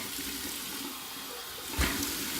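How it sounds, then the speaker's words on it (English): A bathroom tap runs steadily for a warm-water rinse after shaving, a soft, even wash of flowing water with a brief louder splash near the end. "Okay, here's my warm water rinse."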